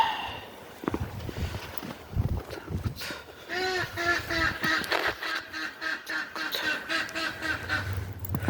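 Neighbours' poultry ducks quack outdoors in snow, a rhythmic run of loud, close quacks following a few crunching footsteps, with no talk over them.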